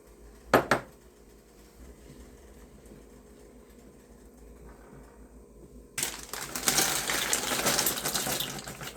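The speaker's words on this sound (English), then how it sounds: "This is the stage where we're going to now mix it until it all becomes uniform." Pasta with store-bought sauce is stirred in a pan on a simmer, starting with a single clatter and then a dense, steady scraping and sloshing that swells for the last few seconds, with no talking.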